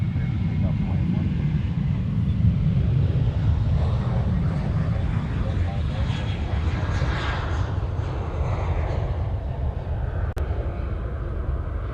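A jet airliner taking off from runway 8 Left at Honolulu Airport makes a steady, loud, broad engine roar throughout, with some wind buffeting on the microphone.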